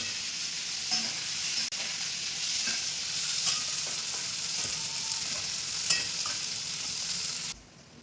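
Steady, close frying sizzle in a pan before tomatoes go in for a tomato and bean curry, with light stirring scrapes throughout, ending abruptly near the end.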